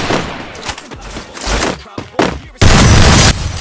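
Two-shot gun fired in the Free Fire battle royale game, a few sharp booming shots ending in a sustained loud blast, heard under game music and talk.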